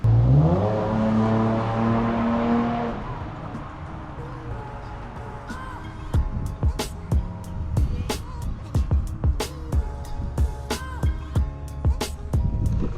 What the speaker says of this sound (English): I'm going to drive it out of the workshop and have a bit of a better look then.